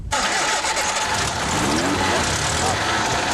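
Race car engines fire up with a sudden start, then hold a loud, dense, steady roar of several cars idling and revving close by without a break.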